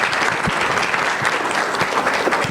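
A roundtable audience at a Spanish-language panel on elections and citizen participation breaks into dense, continuous applause for the moderator, a steady loud wash of many hands clapping with no voices on top.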